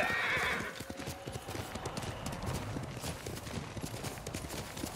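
A horse gallops through the Ghost of Tsushima game world with steady, close clip-clopping hoofbeats throughout, a short whinny rising near the start.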